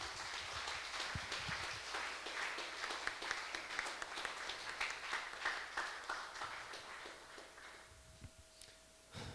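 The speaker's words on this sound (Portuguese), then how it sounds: "Você quer aplaudir o Rei Jesus?" A church congregation applauds during a Sunday worship service, a quiet but steady wash of many hands clapping that fades out near the end.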